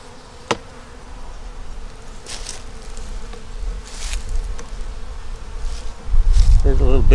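Bees buzz around an open beehive, a close, steady hum with individual bees zipping past the listener, growing louder and lower near the end as something brushes close.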